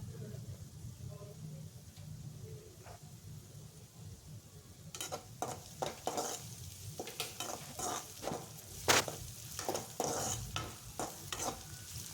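Eggs fry and are stirred with onions in a pan for egg fried rice. A low, steady sizzle grows busier about halfway through, broken by repeated scraping strokes and clinks of the spoon against the pan.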